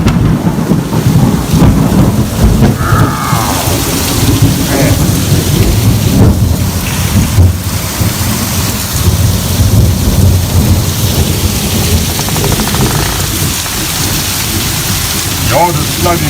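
Heavy rain pounds down hard and steadily on a flooding yard in Texas, with repeated rumbles of thunder rolling through the loud, dense downpour.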